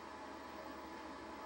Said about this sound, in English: You're in the train though, right? Yeah, still in the train.